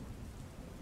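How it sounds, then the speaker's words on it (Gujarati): Heavy rain pours down in Vadodara as a dense, continuous low rumble of falling water, faint and distant with no talking. "ધોધમાર વરસાદ પડતા"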